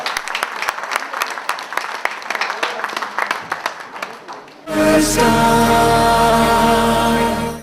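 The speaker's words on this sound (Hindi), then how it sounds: "जावेद मेमन साहब स्टेज पे तशरीफ लाएं भरपूर तालियों के साथ" Crowd applause at a prize distribution, scattered clapping for about five seconds that gives way abruptly to a loud, sustained music-like tone.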